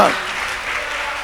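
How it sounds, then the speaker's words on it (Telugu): Church congregation clapping loudly together at a Telugu Christian sermon, a dense steady wash of applause filling the whole short moment. "గట్టిగా చప్పట్లు కొడదామా"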